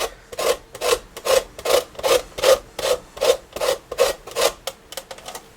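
An orange is zested on a metal grater, giving about a dozen steady, evenly spaced rasping strokes, close and clear with no talking.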